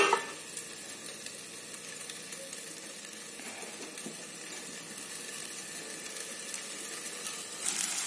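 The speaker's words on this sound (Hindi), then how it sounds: "साथ ही साथ इसमें मैं डालूंगी हरा धनिया और इसे हमें कवर करके 3 से 4 मिनट पकाना है।" Sabudana khichdi made with soaked tapioca pearls and green coriander cooks in a pan, giving a soft, continuous sizzle with faint stirring scrapes and no voices.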